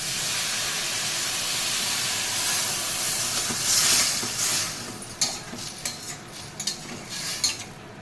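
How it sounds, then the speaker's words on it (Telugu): Water poured into a hot pan of bitter gourd pieces for an Andhra kakarakaya pulusu gives a steady steaming hiss. Sharp metallic scrapes and clinks come toward the end. "తగినంత వాటర్ పోయి"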